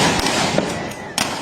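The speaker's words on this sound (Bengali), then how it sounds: "কয়েকজন পুলিশ সদস্য গুলি চালাতে চালাতে সামনে এগিয়ে যান।" Police gunfire during a street protest, several sharp cracks in quick succession over a noisy crowd background, loud and close.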